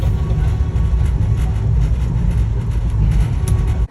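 A train at Nagapattinam railway station gives a loud, steady low rumble throughout, with faint higher clatter on top, then drops off abruptly just before the end.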